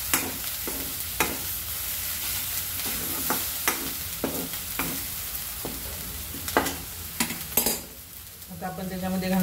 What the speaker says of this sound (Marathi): तर मसाला छान परतून झाला आहे, त्याला तेलही सुटलं आहे